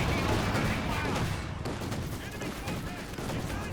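Ostwind flak tank firing in the game Company of Heroes 2: a dense, continuous barrage of rapid autocannon bursts and explosions, loud and busy throughout.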